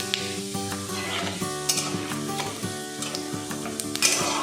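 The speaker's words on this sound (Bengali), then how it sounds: "এরপর এখানে একটু সামান্য পরিমাণে সাদা জিরে ফোড়নে দেব।" White cumin seeds sizzle in hot oil, a dense steady crackle close up with occasional stirring clinks, alone without any talking.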